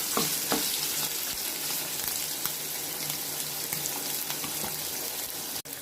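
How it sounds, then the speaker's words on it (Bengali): Prawns fry in hot oil, producing a steady, dense sizzle that stays loud and close throughout, with no talking. "তেল গরম হয়ে গেছে, এবার চিংড়ি মাছগুলোকে দিয়ে দেবো।"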